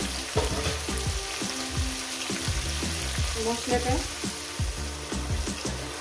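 Potato frying in a pan with tomato and green chilli, a busy crackling sizzle of oil broken by regular scraping knocks of a spatula stirring the pan.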